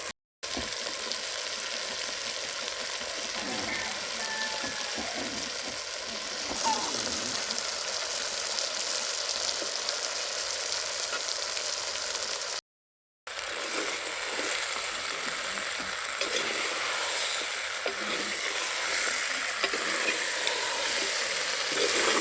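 Tomato and pumpkin pieces fry in a pan for pumpkin poriyal, giving a steady, close sizzle with occasional stirring scrapes, briefly broken by a short pause, while someone talks faintly now and then.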